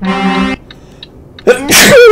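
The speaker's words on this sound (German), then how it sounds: "Gesundheit, sehr drückend." A single loud, close sneeze bursts out sharply at the end, after a held tonal note and a quiet gap, with nobody speaking.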